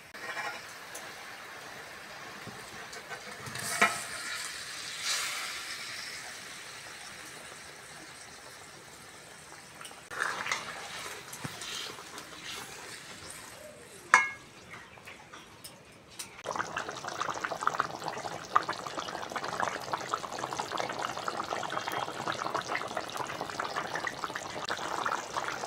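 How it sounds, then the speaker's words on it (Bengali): Egg and potato curry simmers in a pot, with a soft, close bubbling and burbling broken by a few clinks, then a steadier, stronger boil in the latter half. "ঝোল ফুটে গেছে"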